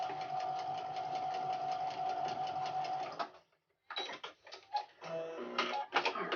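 A sewing machine stitches quilt fabric in a fast, even mechanical whir and rapid ticking for about three seconds, stops briefly, then runs again in shorter, uneven bursts.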